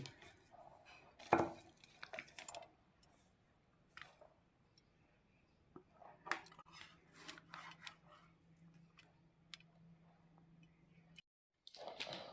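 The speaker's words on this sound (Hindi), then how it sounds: "ये देखें मैंने बर्फ़ी की कटिंग कर दी है।" A knife slices through a tray of carrot khoya barfi in a quiet kitchen, giving soft, scattered taps and light scraping cuts, with one sharper knock near the start.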